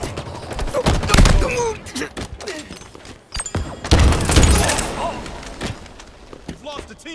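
A frag grenade blast and bursts of gunfire fill a Halo Infinite match: heavy thumps near one and four seconds amid rapid volleys, with in-game voices calling out over the action.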